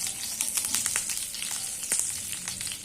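Mustard seeds, dried chili and curry leaves sizzle in hot oil with a steady crackle and frequent sharp pops of bursting seeds, close and alone.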